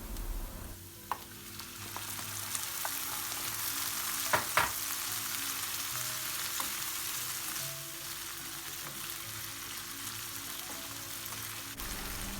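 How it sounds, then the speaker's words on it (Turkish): Meat and onions sizzle and fry steadily in a pan, with a few stirring scrapes and clinks partway through; no voices. "Şimdi üzerine düdüklü tencerede pişirdiğimiz etleri ilave ediyoruz ve biraz karıştırıyoruz."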